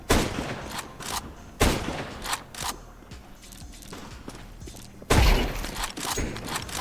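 Gunfire in Counter-Strike 2 comes as loud, sharp shots, some of them in rapid bursts with quieter gaps between. Soft thuds and footstep-like taps sit between the shots, and no one speaks.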